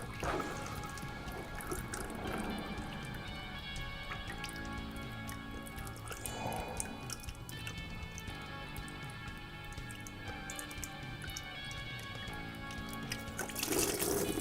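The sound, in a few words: coolant draining from Vulcan 750 motorcycle cooling system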